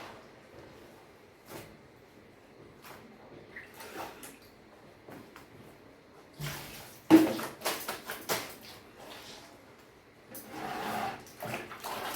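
Water runs and splashes during household washing, coming in intermittent bursts with occasional clatter of items being handled between quieter pauses.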